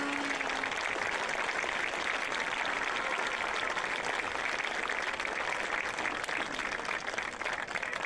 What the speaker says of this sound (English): Let's hear a round of applause for Hall of Fame inductee,